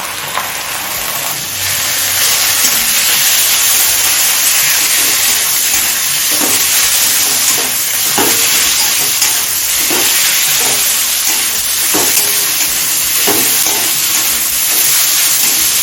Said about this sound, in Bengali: পেঁয়াজটা হালকা লাল করে ভেজে নিয়েছি এখন চিকেন কিমাটা দিয়ে দিচ্ছি